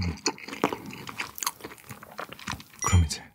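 Crispy fried tangsuyuk pork with a thin, lightly crunchy batter being chewed up close: irregular wet crunches and bites in quick succession, with a louder crunch near the end, no talking.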